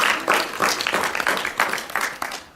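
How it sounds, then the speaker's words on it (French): Audience applause for the participants at a debate event, a dense, steady patter of many hands clapping throughout, fairly close and moderately loud, with a few murmured voices underneath. "On peut applaudir ceux qui ont participé"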